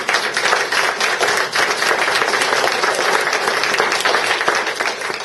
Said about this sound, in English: So let's give her another applause for coming here today.